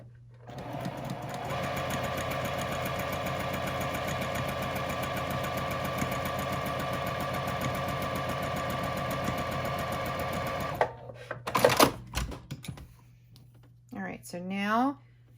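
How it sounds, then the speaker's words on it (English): Sewing machine stitching a side seam of a garment, a steady loud mechanical whir for about eleven seconds, then stopping with a few clicks and handling noises and a brief voice at the end. "now I'm going to sew this side together"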